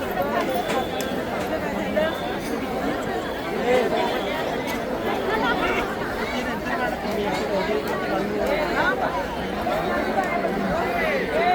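A dense temple crowd in Kolhapur chatters continuously, many overlapping voices forming a steady, fairly loud babble with scattered nearby shouts and calls throughout.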